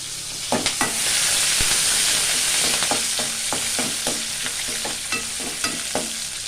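Garlic, green chili and lentils fry in a pan with a bright, steady sizzle, while a spatula knocks and scrapes against the pan in regular strokes, close and fairly loud.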